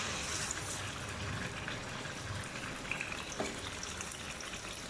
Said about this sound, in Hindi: ये मैंने इसमें ऑयल डाला थोड़ा सा और इसे फ्राई के लिए रख दिया।